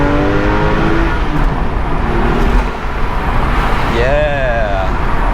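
A Porsche 997.1 Carrera 4S cabriolet accelerates off the line with loud rising engine tones heard from inside the car under constant road and wind roar, then a second sweeping rev.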